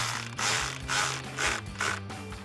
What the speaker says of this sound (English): Grab your 8mm socket once again and tighten down the clamp at the throttle body.